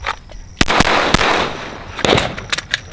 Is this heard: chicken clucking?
no